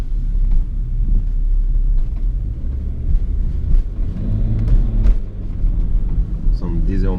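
A remapped BMW 535d diesel car accelerating hard on an extra-urban road, its deep engine rumble and drivetrain noise loud and continuous from inside the cabin, with a voice talking over it throughout.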